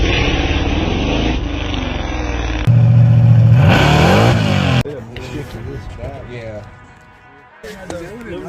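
A drag-racing truck with an 8.8 rear axle roars loudly at the starting line for a few seconds during a test pass, its engine note shifting, before it cuts off and people talk.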